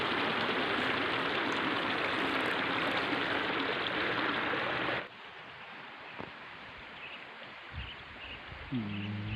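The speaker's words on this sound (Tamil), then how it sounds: "ரோட்டோர பாதைகள்லாம் மழை வெள்ளத்தில் மூழ்கி தண்ணி போய்கிட்டு இருக்கு." Loud, steady rush of rain floodwater flowing along a roadside in a hill region fills the first half, then gives way abruptly to a quieter scene with faint knocks and a brief tonal sound.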